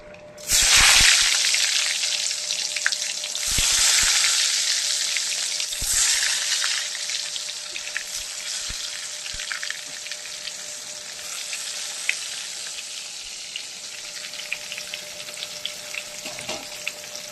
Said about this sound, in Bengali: এখন আমি বেগুন ভেজে নেব